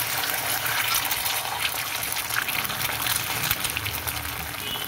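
Egg dropped into hot oil for egg tadka, sizzling and spitting in a steady, fairly loud broadband hiss that fills the whole stretch without voices.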